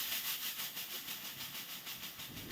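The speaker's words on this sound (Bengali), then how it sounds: "পেঁয়াজগুলো তেলে দিয়ে ভালোভাবে ভেজে আমি কিন্তু একটু লবণ আর একটু হলুদ দিয়ে নিচ্ছি" Onions sizzle in hot oil with salt and turmeric, a steady bright frying hiss with gentle pulsing crackle, close and continuous with no talk.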